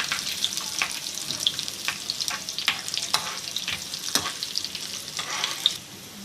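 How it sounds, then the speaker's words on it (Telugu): Dry red chillies and cumin fry in hot oil as a tempering for a raw mango chutney, making a continuous crackling sizzle broken by repeated spatula strokes against the pan. "ఎండుమిరపకాయ ఇవన్నీ కూడా వేగాలి బాగా"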